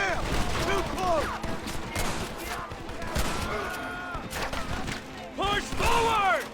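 Sustained battle gunfire in Red Dead Redemption, dense overlapping rifle and machine-gun shots in a continuous fusillade, with shouted voices and whistling tones mixed in throughout.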